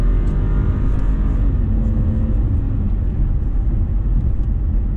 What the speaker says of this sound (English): Accelerating with your Tribeca.